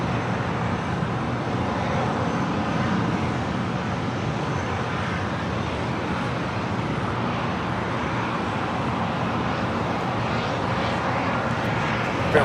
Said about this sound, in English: Apparently it's the Lufthansa A340-300, now short funnel for 24 right.